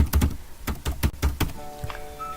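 Quick bursts of keystrokes on a computer keyboard, a few clustered taps followed by a faint electronic tone near the end.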